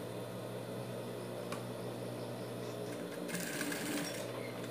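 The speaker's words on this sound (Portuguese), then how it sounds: "eu vou costurar ela aqui ao meio" A sewing machine stitches a ribbon on a dog bandana, running in a steady mechanical whir throughout, a little busier toward the end, with no voices.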